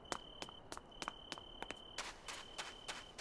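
Video game footsteps from the Minecraft mod Charmonium: a steady run of crisp, clicky steps, each a short sharp tap, picking up pace and getting denser and rougher in the second half, with no talking.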